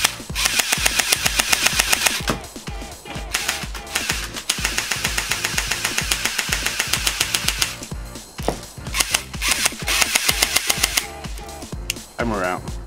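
An HFC MP5 micro airsoft BB gun fires in rapid bursts, sharp snappy clicks and pops in fast rhythmic strings with short gaps, loud and close.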